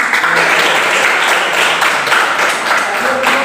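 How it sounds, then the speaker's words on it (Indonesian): Schoolchildren in an Indonesian classroom clap together, a loud, close, continuous burst of hand claps with voices mixed in. "Tepuk tangan dulu."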